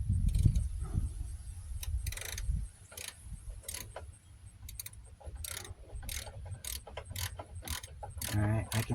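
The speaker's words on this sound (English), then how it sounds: "That way I can rotate it with a ratchet instead of trying to do it by hand." Ratchet clicking as it turns a socket on a hub bearing bolt of a 2006 Dodge Grand Caravan, with rapid metallic clicks in several short bursts, close up, plus some clanking of tools.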